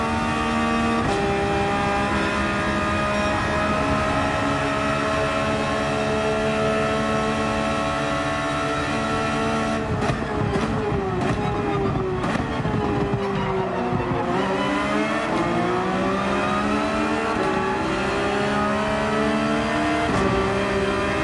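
Nissan GT-R race car in Gran Turismo 7 at Laguna Seca, with a loud, continuous engine roar that climbs and falls through revs and gear changes and dips sharply mid-way before pulling back up.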